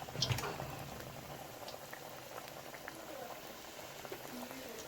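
Bread rolls fry in hot oil with a quiet, steady bubbling and crackle, heard close but faint. A brief low voice comes in at the very start.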